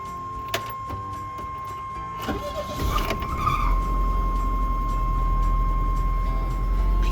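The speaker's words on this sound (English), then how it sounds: "Started right up and has never cranked that fast before." A LeSharo motorhome engine cranks in a short, noisy burst after a few faint clicks, then catches and settles into a steady low idle hum that carries on to the end.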